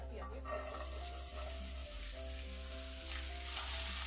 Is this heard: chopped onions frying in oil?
yes